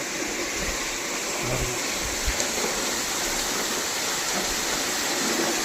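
Water rushes through a sluice gate at a forest dam, a dense, continuous roar of flowing water filling the scene with no pauses.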